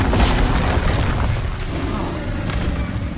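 The Incendio fire spell bursts in Hogwarts Legacy with a close, loud blast and crackling rumble that carries on for several seconds, while a voice is heard over it.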